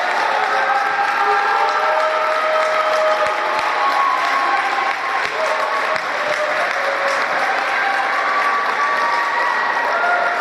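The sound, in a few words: applause for volleyball seniors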